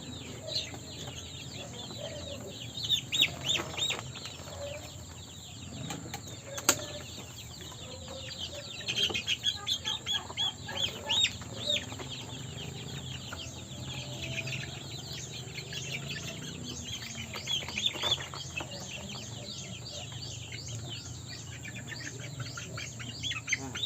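Turkey poults about three weeks old chirp and peep steadily in a cluster, with brief louder bursts of cheeping and occasional clucking nearby.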